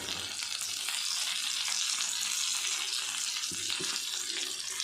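Prawn tikka fries in a pan with a steady, bright sizzle, a close continuous hiss of hot oil with a couple of soft knocks, no talking.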